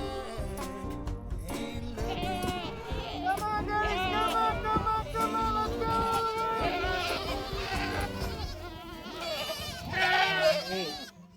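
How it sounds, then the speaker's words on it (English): Goats and sheep on a Texas ranch bleat repeatedly and overlap in a loud, wavering chorus that continues throughout, with a few calls rising above the rest near the end. "And you have goats, sheep,"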